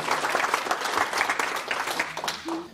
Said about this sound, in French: on peut faire un tonnerre d'applaudissements vraiment pour l'association Soleil